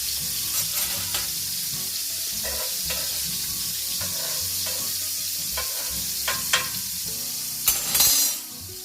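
Lean meat patties fry in a skillet with a steady, close sizzle throughout, broken by a few scraping stirs and clinks, then a louder burst of sizzling near the end.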